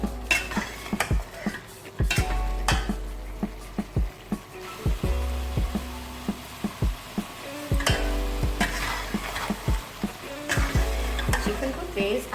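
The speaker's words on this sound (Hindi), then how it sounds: "चिकन को तेज़ आंच पे अच्छी तरह से भूनते जाएं।" Chicken for karahi fries on high heat in a pan, with a low sizzle under repeated metallic clanks and scrapes of a spoon stirring against the pot.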